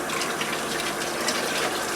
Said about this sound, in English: That should be totally rinsed. Oh, wait, there's lots of water in there.